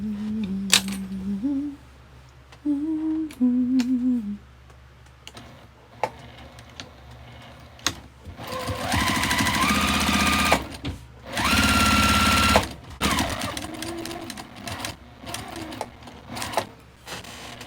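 A sewing machine stitches a quilted tote bag panel in several bursts of rapid, whirring needle chatter, close and steady, broken by pauses filled with small clicks, taps and handling noises, with no speech.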